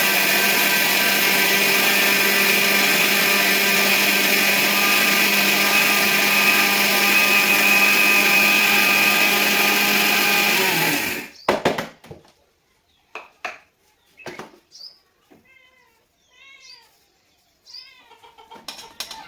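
A kitchen mixer grinder roars loudly and steadily for about eleven seconds while grinding chili seeds with salt, then cuts off, leaving scattered clinks and handling noises nearby.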